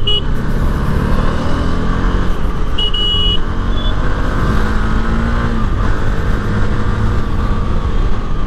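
A Honda CB 300F motorcycle engine on the road, a loud, sustained drone with gently shifting pitch as the bike pulls and cruises, and wind noise running underneath.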